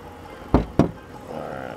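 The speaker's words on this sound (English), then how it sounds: "let me just go ahead and pop the hood on this guy real quick" The hood release on a 2019 Dodge Durango R/T gives two sharp clunks in quick succession, close by, followed by a low, quiet background hum.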